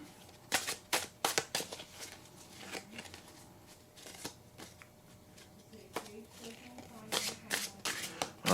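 Tarot cards, including an Art Nouveau deck, being shuffled in quick crisp riffling bursts that come and go, close and fairly quiet, with a voice talking at times between them.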